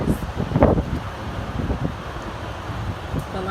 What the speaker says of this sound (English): It's a little bit windy out here, so